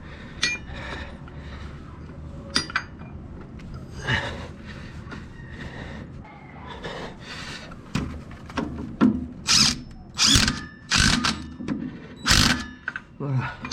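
A power tool whirs in short bursts, tightening bolts on the front suspension of a 2.5-litre turbodiesel Jeep Cherokee XJ, with close mechanical clatter and someone talking between the bursts.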